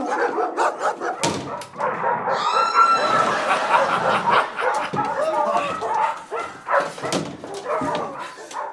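Several dogs bark and yelp repeatedly across the scene, close and loud, mixed with a busy background of voices and commotion, with a brief whine among the barks.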